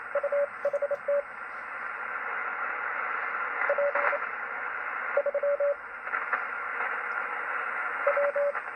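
CW Morse code tones come through a Yaesu FT-101E radio receiver with no CW filter, short bursts of beeping dots and dashes in irregular groups over a constant hiss of wide band static.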